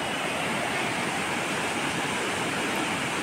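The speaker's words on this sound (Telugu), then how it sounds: "ఆ వాటర్ ఫ్లో సౌండ్ చూడండి ఎట్లుందో" A waterfall pours in a continuous, dense roar of rushing water, steady and full with no breaks, heard close and alone without any voices.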